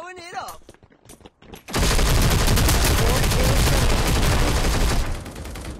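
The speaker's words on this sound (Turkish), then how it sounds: "Bu machine gun'la midden yarmak çok güzel olacak." Machine gun fire in the Hyper Front video game: after a brief voice and a few scattered shots, a loud, dense, rapid burst of automatic gunfire roars continuously for several seconds.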